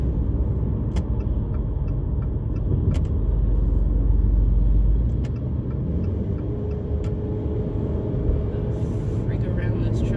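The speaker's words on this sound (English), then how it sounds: "I've been stuck behind this truck all the way through town trying to get onto the highway" Steady low rumble of a car's interior and road noise while driving through town behind a slow truck, a continuous drone with occasional faint clicks and someone talking over it.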